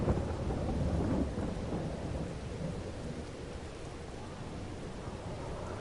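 Rain pours steadily outside a cabin in the PS4 game Blackwater Bottom, a continuous broadband hiss with a low rumble of thunder early on that gradually fades into the even downpour.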